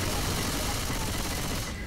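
Gunfire in Left 4 Dead 2 rattles as rapid, dense, continuous bursts, loud and close, packed into under two seconds before trailing off at the end.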